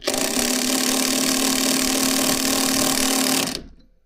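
Keyang ID16BL-150I cordless impact driver set to its first mode drives a Torx 25, 5x90 screw, giving a loud, steady buzzing hammer rattle for about three and a half seconds before stopping abruptly.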